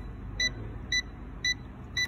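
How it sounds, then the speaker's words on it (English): A UNI-T digital clamp meter in NCV mode, held near a live 220-volt AC wire at an outlet, gives four short, evenly spaced high-pitched beeps about half a second apart over a low background hum. "beeping, red light signal"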